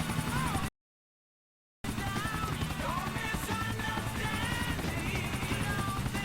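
Helicopter in a video game, a loud continuous rotor chop and engine drone with a short dropout near the start and faint game sounds layered over it.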